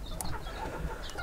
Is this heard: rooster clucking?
yes